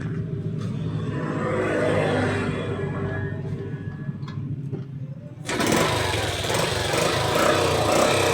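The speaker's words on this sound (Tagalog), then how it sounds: "Ayan po, umandar po itong motor." A Yamaha YTX motorcycle engine with a suspected misfire runs at a steady idle throughout, then gets louder and harsher midway as the revs rise, continuing without talk.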